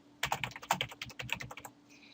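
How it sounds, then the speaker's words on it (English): Fast, uneven typing on a computer keyboard: a quick run of close, crisp key clicks for about a second and a half, then it stops and only a faint high hum remains. "You're seeing how rubbish my typing is here at the moment."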